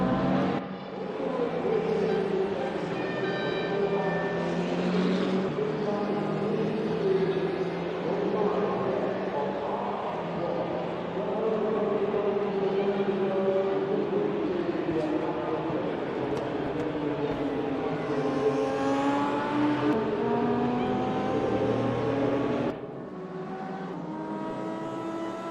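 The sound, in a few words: Lotus race car engine in a sim racing video game, Dubai Club circuit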